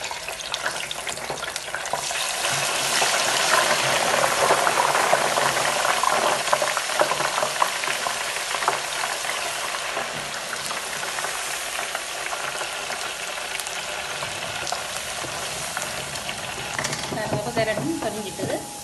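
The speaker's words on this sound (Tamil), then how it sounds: "கேரட்டும் பொரிஞ்சிட்டது." Carrots deep-frying in hot oil while noodles are being made: a loud, continuous crackling sizzle that builds early and holds steady, with faint stirring noises near the end.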